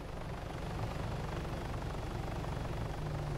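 A helicopter in the ARMA 3 game gives a steady, faint rotor and engine drone that holds evenly throughout with no talking.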